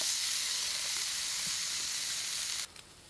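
Rib-eye steak searing in a hot pan gives a steady, loud hiss and sizzle that runs evenly, then drops away suddenly to near quiet just before the end.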